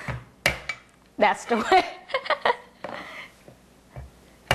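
Sharp, loud chopping strikes of a big cleaver cutting radish on a board, several in an irregular burst, with a voice speaking over and between the hits.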